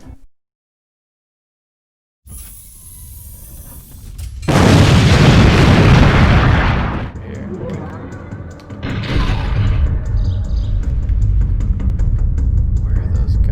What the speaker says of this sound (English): it makes the enemy freeze in 3D space, turn black and electrocuted, and then they explode